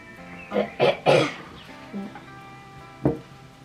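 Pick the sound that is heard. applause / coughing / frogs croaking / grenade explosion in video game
coughing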